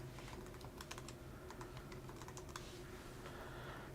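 Typing on a computer keyboard, a fast run of crisp key clicks over a steady low hum, close and fairly quiet with no voices.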